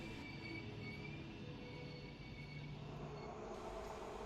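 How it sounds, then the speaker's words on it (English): A PKP train rolls past a busy station platform on the Gdansk–Warsaw line, a steady close rumble of wheels on rails with a sustained squeal of wheels running throughout, no voices. "I went to the far end of the platform towards Warsaw and just watched some train pass"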